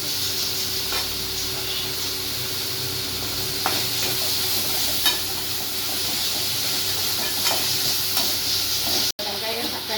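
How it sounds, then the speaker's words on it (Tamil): Onion and tomato with a little salt sauté in a pan for moong dal kadayal, giving a steady close hiss and sizzle with occasional faint taps of stirring throughout. "வெங்காயம் தக்காளி எல்லாம் வதங்கிடுச்சு."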